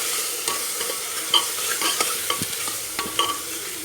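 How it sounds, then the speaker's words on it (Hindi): Parwal and potato frying with coriander and cumin powder as a spatula stirs them around the pan, brisk scraping strokes over a constant sizzle, close and clear. "इन सभी को हम अच्छे से इसमें मिक्स कर लेंगे"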